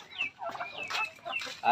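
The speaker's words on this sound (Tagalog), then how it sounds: "So ito yung mga alaga nating pabo" Turkeys raised on a farm, more than five months old and kept as a breeder batch, give short clucking calls in a quick burst, close by and clear, with no talk over them.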